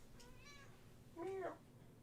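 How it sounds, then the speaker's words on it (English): Cat meowing twice at close range, a soft short mew followed by a louder, drawn-out meow, with steady low background hum and no talking. "I can pet 2 cats here on the way out."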